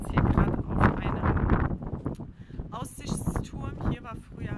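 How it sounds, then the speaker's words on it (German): Strong wind buffets the microphone atop an observation tower in Kazakhstan, roaring and gusting loudly throughout beneath a person speaking. "Es ist halt mega windig heute"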